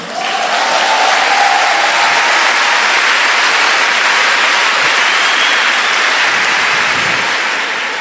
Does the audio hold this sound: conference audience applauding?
yes